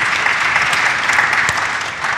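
Loud, close applause from the audience at a business launch event for a capital markets strategic plan. The clapping is dense and continuous, with a few sharper claps standing out.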